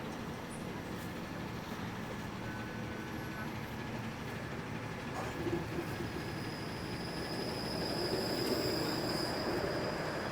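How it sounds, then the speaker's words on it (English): A Toronto streetcar sits at a stop on Queen West, giving a faint low rumble with wheel and rail noise and some squeal, all under quiet outdoor street ambience. "Standing and waiting to get on the streetcar."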